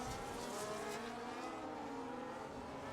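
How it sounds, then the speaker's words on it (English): Formula 1 race cars in the F1 25 video game scream past at full throttle, a continuous loud engine whine with shifting pitch from several nearby cars, with no commentary over it. "The Ferrari crew just behind the Williams of Alex."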